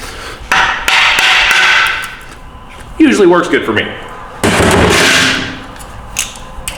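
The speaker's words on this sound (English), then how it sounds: "so I'm gonna hit it with a hammer." Several sharp metallic hammer blows ring out close by on a 1997 Ford F350 ZF5 transmission part, interspersed with someone talking in a workshop.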